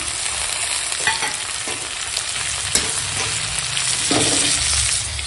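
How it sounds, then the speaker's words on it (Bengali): Vegetables with ginger-garlic and cumin paste sizzle in hot oil for a radish and pointed gourd ghonto, a constant close crackle broken by a few spoon scrapes and stirs, no talking. "এখন দিয়ে দেবো, এখানে আছে আদা রসুন বাটা আর জিরে বাটা দিয়ে দিলাম"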